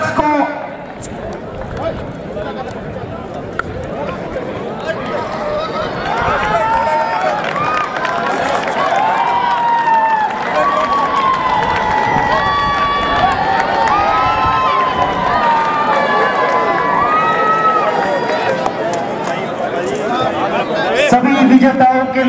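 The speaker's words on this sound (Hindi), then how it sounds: "जोरदार तालियां, जोरदार तालियां" A crowd at a horse show in Rajasthan cheers and claps in a continuous roar, with an announcer talking over it throughout.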